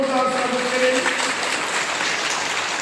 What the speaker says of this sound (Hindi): सब तालियां बजा के आपका जोरदार स्वागत करें